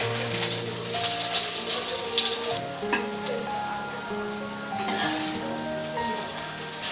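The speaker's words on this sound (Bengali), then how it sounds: "আলুগুলো এই একইভাবে ভেজে নিতে হবে।" Potato pieces fry in hot oil in a kadai for a potato and brinjal masala curry, a steady close sizzle with occasional stirring clatter throughout, and no voices.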